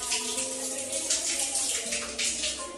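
Water gushes steadily from the tap of a newly installed water heater, a continuous broadband rush that stays loud and even from start to finish with no voices over it.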